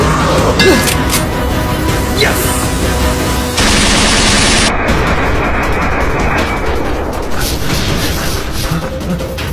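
Rapid gunfire in a zombie short film, a continuous loud rattle of dense shots lasting throughout, with a brief shift in tone partway through and no speech.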